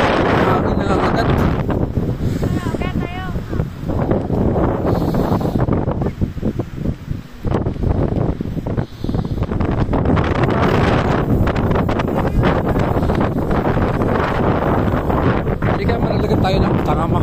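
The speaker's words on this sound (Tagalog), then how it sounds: "Hangin na agad." Strong wind buffets the microphone at Leddy Park in Vermont, a loud continuous rumbling roar with gusty surges, while people chat quietly underneath.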